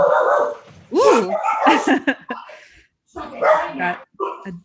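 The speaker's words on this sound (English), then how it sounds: "got a dog." A dog barks, yips and whimpers close by during a city council meeting, in several rising, whiny bursts separated by short pauses.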